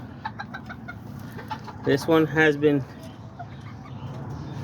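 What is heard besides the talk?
rooster clucking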